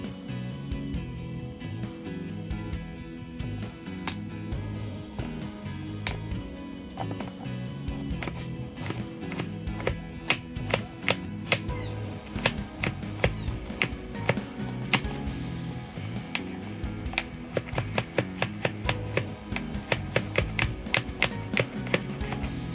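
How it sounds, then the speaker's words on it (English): A knife dicing peeled carrots on a cutting board for beef shank soup, producing steady, close, rapid chopping taps that grow sharper and denser, with a low background hum throughout and no talking. "I will then cut the carrots into small dices."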